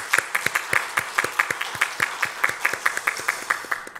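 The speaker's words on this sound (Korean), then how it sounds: "하나님께 영광의 박수를 한번 올려드렸으면 좋겠습니다" A church congregation claps in unison, giving glory to God during a service; loud, rhythmic, evenly spaced claps at a brisk steady beat, with no talk over them.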